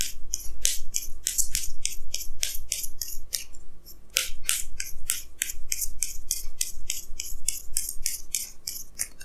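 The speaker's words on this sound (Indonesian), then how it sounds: "Jadi sini saya akan tarik lagi 2 kartu tambahan" Tarot cards drawn and shuffled from a deck make a quick run of crisp, papery swishes and snaps, close and fairly loud, repeating in a steady rhythm with no talk.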